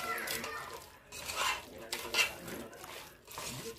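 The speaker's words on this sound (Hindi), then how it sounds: "हाथ से कलाएंगे तो अच्छे से मिक्स होता है" Food is mixed by hand in a bowl, giving soft, wet squelching and rubbing strokes that rise and fall in a steady rhythm, close and fairly quiet, with faint clinks of utensils in the background.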